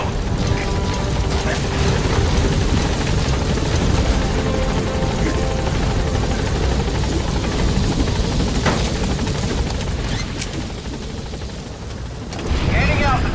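The Pequod helicopter in Metal Gear Solid V roars close and loud with steady rotor thump and engine drone throughout, easing slightly near the end before swelling again, with speech over it.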